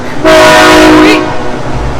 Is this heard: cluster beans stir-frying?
no